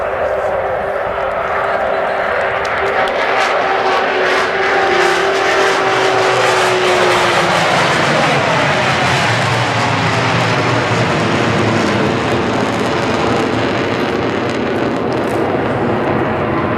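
An Avro Vulcan bomber makes its final flypast at the 2015 Southport Airshow, a loud jet roar sweeping past with falling pitch and fading into a broad rumble while commentary continues over it.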